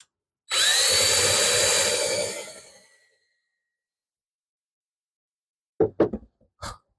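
A power drill boring a small pilot hole in a wooden deck box runs in one loud whirring burst of about two and a half seconds, winding down, followed after silence by a few sharp knocks.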